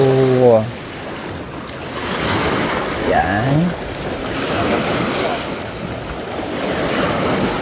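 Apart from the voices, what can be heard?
sea waves during boat trip to Gaspar Island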